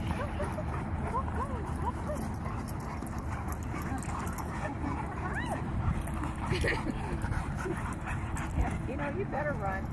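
Several big dogs bark, yip and whimper in a lively, continuous jumble while running and chasing each other outdoors in Las Vegas, with someone talking over them.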